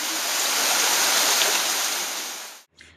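River water rushes steadily at a crossing on a mountain trail in Tanzania, a dense continuous hiss of flowing water that cuts off abruptly near the end.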